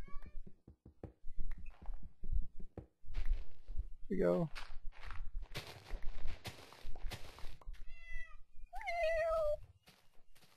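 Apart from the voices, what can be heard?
cat meowing in the video game Minecraft (modded)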